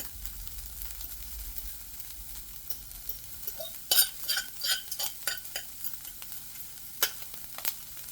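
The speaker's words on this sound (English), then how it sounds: "Listen to that beef sizzle." Beef sizzling in a pan for a rice bowl, a steady close frying hiss broken by sharp clinks and scrapes of stirring, with no talk.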